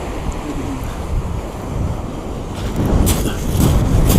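Wind gusts buffet the microphone on Great Yarmouth South Beach in Norfolk, making a loud, steady roar that swells toward the end, with surf blended into the rush.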